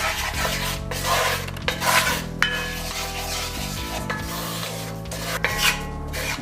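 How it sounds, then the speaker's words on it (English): A utensil scrapes and rubs against a pan as flour is stirred into melted butter for a bechamel sauce, producing continuous rasping strokes with a few sharper knocks, loud and with no talking. "You can just put all the flour in and we stir."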